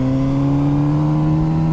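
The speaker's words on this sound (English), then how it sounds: "A lovely induction roar and actually some volume out of the exhaust as well. So beautiful exhaust noise." Kawasaki Z900 RS retro motorcycle engine pulling hard, a loud continuous induction roar with strong exhaust note, steady rising pitch held close and alone.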